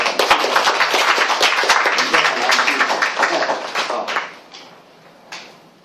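An audience at a gathering breaks into steady applause, dense clapping that holds for about four seconds and then fades to a few scattered claps.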